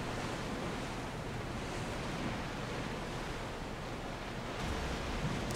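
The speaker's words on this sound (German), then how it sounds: "Die See ist ruhig und der Wind ist warm." Calm sea waves and warm wind in the video game Assassin's Creed Odyssey form a steady, even wash of surf and breeze that holds at the same level throughout, with no voices.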